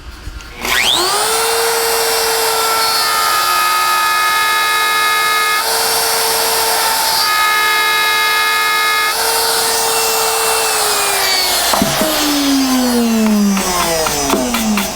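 Router fitted with a profile bit carving letters into a wooden sign, spinning up to a loud steady whine with shifting pitch as it cuts, then winding down near the end; construction noise sits in the background.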